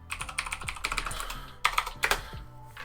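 Typing on a computer keyboard, a steady run of close, crisp key clicks with a couple of heavier bursts of quicker keystrokes, no voices over it.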